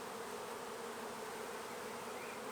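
Honey bees buzz steadily across an open hive frame during queen rearing, lightly smoked and fairly calm, a dense continuous hum with no pauses or voices.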